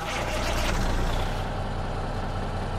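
A Kenworth K200 truck engine starting in American Truck Simulator: a loud, broad rush of noise gives way to a steady, deep diesel idle with a low, throbbing rumble, close and with no voices.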